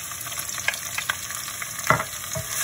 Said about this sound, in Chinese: 把它全部爆香